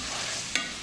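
Ginger garlic paste and onions sizzling together in a pan, a continuous soft fry broken by one quick scrape of a stirring spoon, close and without talk.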